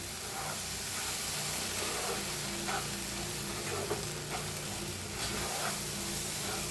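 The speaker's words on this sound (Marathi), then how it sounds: "मिक्स करून आणि रव्याला भाजून घ्यायचं" Semolina (rava) dry-roasting and being stirred in a pan, a soft continuous sizzling hiss with faint scraping, steady and moderately quiet with no talk.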